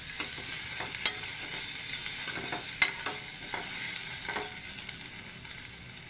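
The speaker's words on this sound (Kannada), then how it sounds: "ಈಗ ಸಣ್ಣ ಸಣ್ಣದಾಗಿ ಹೆಚ್ಕೊಂಡಿರುವ ಹಸಿಮೆಣಸನ್ನು ಹಾಕಿ ಫ್ರೈ ಮಾಡ್ಕೊಳ್ತಿದ್ದೇನೆ" Finely chopped green chillies fry in hot oil in a pan, a steady soft sizzle broken by occasional sharp clinks and scrapes of stirring, fairly quiet and without talk.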